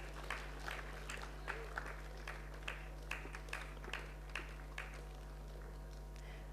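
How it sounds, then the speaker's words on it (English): Audience at a college graduation convocation giving faint, sparse applause, scattered individual claps at a distance over a low steady hum. "Huge round of applause, please."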